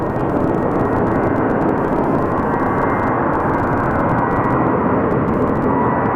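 A jet airliner departing Phoenix Sky Harbor Airport gives a steady, loud, broadband engine roar that holds at a constant level throughout, with no voices.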